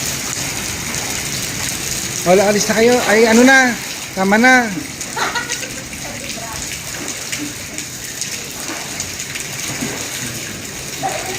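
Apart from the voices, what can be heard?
heavy rain falling on an island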